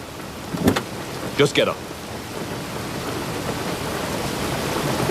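Steady rain falls outside with a broad hiss that slowly grows louder, while low thunder rumbles underneath. Two brief voices break in near the start.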